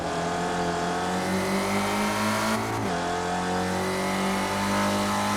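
Spec Racer Ford race cars running at COTA, their engines droning loud and steady at close range as a pitch shifts when one car passes another, with no voices over the noise.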